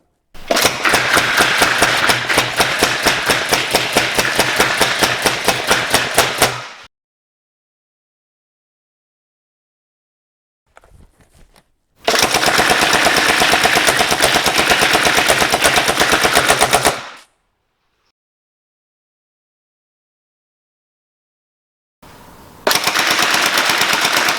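A Tokyo Marui AA12 airsoft gun fires 0.25 gram BBs at an A4 target 30 to 35 meters away on an outdoor range, producing three loud, dense strings of rapid mechanical clatter separated by silent pauses.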